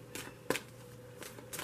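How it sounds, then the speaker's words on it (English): Tarot cards being shuffled by hand, giving soft riffling swishes and a few sharper card snaps, close and quiet with no voices. "If this card flips over while I'm shuffling, you get to see it now."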